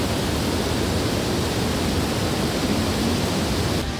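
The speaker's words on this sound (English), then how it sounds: "So behind us is the bottom of the fall. There's a lot of water right now." Water crashing at the bottom of a high-flowing waterfall in Yosemite National Park, heard as a loud, steady, broadband roar that fills the whole clip with no voices.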